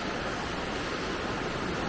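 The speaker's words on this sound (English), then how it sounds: "here's the river flowing in its full glory" River in Littleton, New Hampshire rushing in full flow, a dense, even wash of water noise that stays constant throughout, close and fairly loud with no voices.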